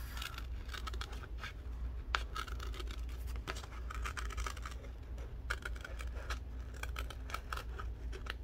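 Scissors cutting paper while decorating envelopes, a string of quiet close snips and crisp scratchy rustles in an irregular rhythm against a soft background hum.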